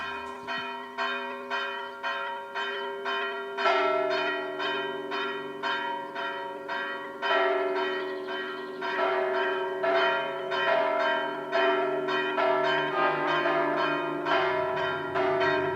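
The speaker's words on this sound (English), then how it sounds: "Listen to the bells." Church bells of St Giles' Cathedral, Edinburgh, peal in a steady, repeating sequence, each strike ringing out and overlapping the next, loud and resonant throughout.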